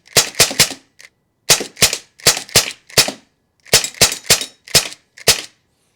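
Rapid pops from a SIG MCX Canebrake airgun firing in quick bursts, about fifteen sharp cracks in three clusters separated by short pauses, loud and close.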